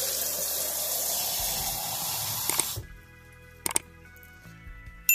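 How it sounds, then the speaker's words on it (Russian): Cold water pours into the tank of a Delonghi coffee machine in a steady, hissing stream for about three seconds, then stops, leaving quiet with a few light clicks and knocks. "я наливаю сюда воду до отметки максимум."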